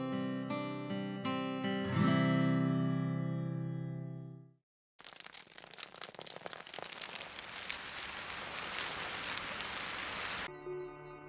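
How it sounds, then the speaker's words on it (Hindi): Rain starting to fall in an animated episode: after a brief musical chime and a moment of silence, a dense, steady hiss of rainfall sets in and continues evenly until it cuts off near the end. "लीजिए, बारिश शुरू हो गई।"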